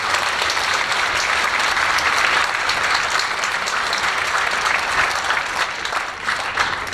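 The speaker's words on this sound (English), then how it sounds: "Can we have a round of applause for all of our parents?" Sustained applause from a school concert audience of parents at a 10th grade high school concert, dense steady clapping filling the hall for several seconds and tapering slightly near the end.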